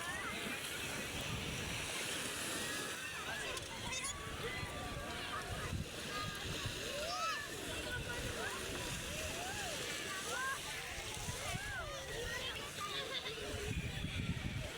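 Sea surf breaks steadily on a beach where many people are swimming, with a constant wash of waves and wind noise on the microphone and voices speaking over the water throughout.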